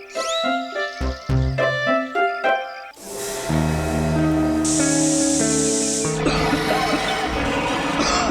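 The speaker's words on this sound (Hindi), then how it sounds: "ये क्या स्प्रे कर रहे हो तुम?" A sprayer lets out a steady hissing burst lasting about a second and a half, partly masked by loud dramatic music in a Hindi television drama scene.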